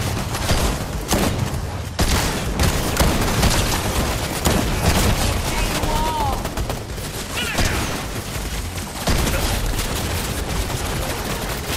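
Rapid gunfire from several weapons during a boss fight in Fortnite, dense bursts and shots with booms, loud and continuous across the whole stretch, with occasional voices underneath.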